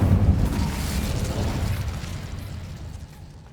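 Incendio fire spell cast in the Hogwarts Legacy video game, a loud whooshing burst of flame that roars at once and then slowly fades over a few seconds.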